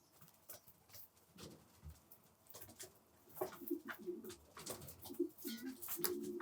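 Domestic pigeons cooing softly inside a loft, low murmuring coos repeating through the second half amid faint shuffling and patter, fairly close but quiet.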